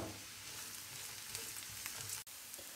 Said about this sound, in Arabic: وغادي ندير نديرو البصله حتى تحمر لينا